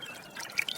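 Water splashes as someone washes their face, heard as soft, short trickles and drips that grow a little livelier toward the end, quiet and close, with no speech.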